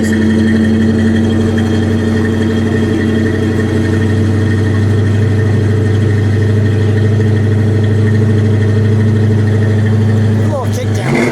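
A 1973 Ford Gran Torino Sport with a 351 V8 idles steadily and a bit high, a loud close low rumble throughout, with a brief shift near the end.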